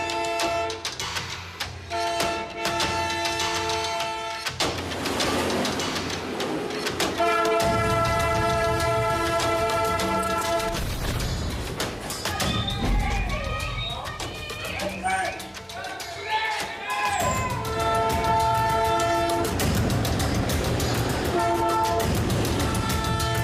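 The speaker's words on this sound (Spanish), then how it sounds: "Ahora se detuvo el tren porque la gente empezó a gritarle." A train rumbles along rails and slows to a halt with a loud sustained horn blasting repeatedly, heard up close with people talking and shouting throughout.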